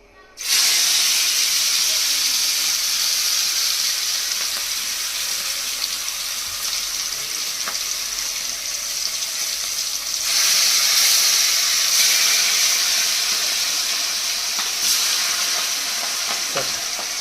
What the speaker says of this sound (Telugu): నూనె అయితే మంచిగా హీట్ అయింది. చికెన్ వేసుకుంటున్నా.